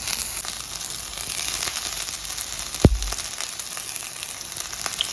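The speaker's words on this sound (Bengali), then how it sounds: "ব্রোকলিটা আগে ভেজে নেব" Broccoli frying in hot mustard oil, a continuous close sizzle and crackle with one sharp knock of a utensil midway and faint scattered pops.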